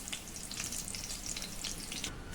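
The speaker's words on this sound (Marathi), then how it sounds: "हे देखील आता शालो फ्राय करून घेऊ." Batti dough balls shallow frying in ghee in a kadhai, a steady soft sizzle and crackle that holds evenly throughout.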